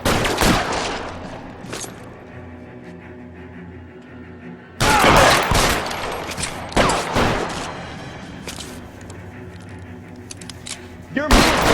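Gunfire from the video game L.A. Noire comes in loud, sharp volleys and rattling bursts, pausing and then returning in a heavy barrage while voices shout over the shooting.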